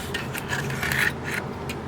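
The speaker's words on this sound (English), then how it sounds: "Then we can slide the motor into the housing." A Dyson DC29 powerhead motor is pushed into its plastic motor housing, giving a few short close scraping and rubbing sounds of plastic on plastic in quick succession.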